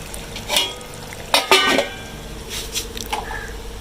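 Chicken keema cooking in oil over low heat in a home kitchen, with a soft steady sizzle under clinks and scrapes of a spoon stirring the pan.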